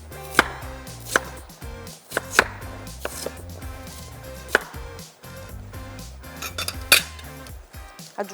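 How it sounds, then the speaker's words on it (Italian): Knife dicing peeled Jerusalem artichoke (topinambur) on a cutting board: a quick, irregular series of close, crisp chops and taps, some sharper clacks standing out, with no talking. "peliamo il topinambur che metteremo a dadini"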